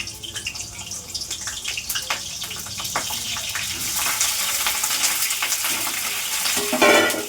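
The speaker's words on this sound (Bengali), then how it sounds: "এই কপিগুলোকে আমি এর মধ্যে দিয়ে দিচ্ছি।" Cauliflower florets tumble into a hot pan and fry, starting with clattering drops and scrapes that settle into a rising, steady sizzle with stirring clicks, all without any talking.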